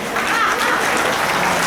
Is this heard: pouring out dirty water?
no